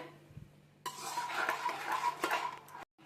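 A spoon stirs sugar into rice payesh in a metal pot, giving a steady scraping clatter for about two seconds with a few sharper knocks against the pot, close and fairly quiet, ending abruptly.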